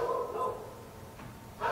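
A dog barks a few times at a distance, short yips standing out against steady background noise.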